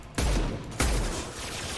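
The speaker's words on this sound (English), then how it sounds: "this thing shoots so many bullets and does so little damage. It shoots so fast, too." A rapid-fire gun in the game Mass Effect 2 lets off two loud, dense bursts of automatic fire, with a rattling roar that carries on after the second burst starts.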